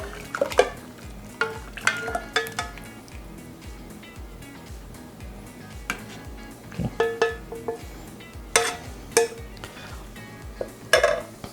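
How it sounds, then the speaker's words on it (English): Hot honey with peppers is strained into a container, producing a steady run of spoon and metal clinks, scrapes and liquid pouring that continues close up for several seconds. "I'm going to go ahead and strain some of this in here"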